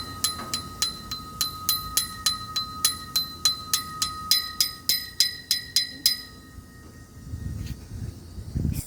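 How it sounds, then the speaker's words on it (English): Old-sounding bell at a Florida East Coast railway crossing; bright, even rings repeat about every third of a second for six seconds, then stop, leaving low rumble and hiss. "So that sounds like an old bell."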